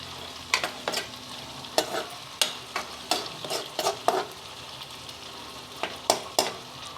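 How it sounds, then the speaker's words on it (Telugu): Amaranth leaves (thotakura) frying in a pan, a steady sizzle broken by repeated sharp scrapes and clinks of a spatula stirring, close up with no talking. "చారు పెట్టి తోటకూర వేపుడు చేస్తున్నాను."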